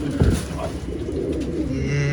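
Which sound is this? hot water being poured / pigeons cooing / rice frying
pigeons cooing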